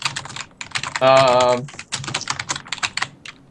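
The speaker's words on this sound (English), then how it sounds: "You're typing like an elephant." Fast, heavy typing clatters on a computer keyboard as a steady stream of loud close key strikes, briefly interrupted by a sustained tonal sound before the rapid clacking resumes.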